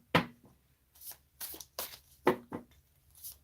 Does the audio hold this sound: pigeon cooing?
no